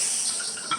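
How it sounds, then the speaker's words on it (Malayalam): Steam hisses from a pressure cooker being opened after cooking sweet corn, a brief, steady, fairly loud close hiss. "കുക്കർ തുറക്കുമ്പോൾ ഇങ്ങനെ നോക്കിയിട്ട് വേണേ തുറക്കാം കേട്ടോ."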